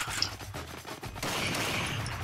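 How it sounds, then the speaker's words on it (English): A shotgun blast in the hunting game Cabela's Dangerous Hunts 2011, sounding as a loud burst of gunfire that gives way to a sustained, dense rumble and wash of noise. "That'd be a shotgun."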